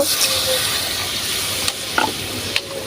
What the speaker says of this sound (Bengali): এখন আমি পানিটা দিয়ে দিব